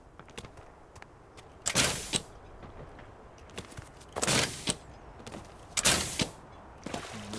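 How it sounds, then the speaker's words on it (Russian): Video game bursts of gunfire ring out in short volleys at a distance, separated by quiet stretches with a few lighter pops. "Ага, вон там стрельба."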